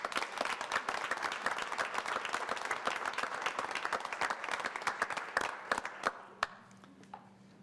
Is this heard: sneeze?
no